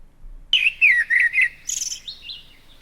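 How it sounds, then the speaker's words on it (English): AI-generated blackbird song in a forest: a clear, loud run of whistled phrases, several bright warbling notes in quick succession followed by a softer trailing twitter, heard alone. "Blackbird song in a forest."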